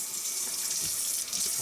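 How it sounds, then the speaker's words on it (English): Tap water runs steadily into a kitchen sink, a close, continuous splashing hiss with no break, heard while cleaning shrimp. "So now we'll run a little water."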